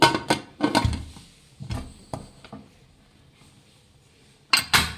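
Several sharp metallic clanks and clinks of a pressure cooker lid being handled and fitted shut, in quick bursts with quiet gaps, close by.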